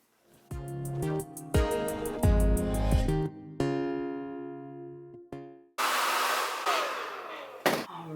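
Hair dryer fitted with a diffuser drying curly hair, a steady whirring blow that cuts in and out and shifts in pitch, loud and close, with no talking.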